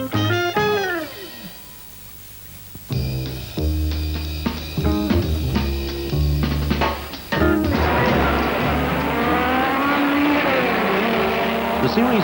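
1966 Formula 2 racing cars, including Honda, Brabham, Cooper, BRM and Lotus machines, roar past at Goodwood Circuit in England, with high engine notes rising and falling as several cars pass close by, joined by a dense pack near the end.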